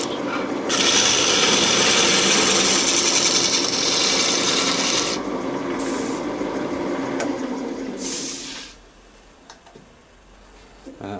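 A power sander works over a wooden bubble bowl, a loud, steady whirring abrasion that runs for several seconds, drops briefly, and then fades away near the end.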